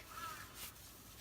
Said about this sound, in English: so you don't have to listen to the crows outside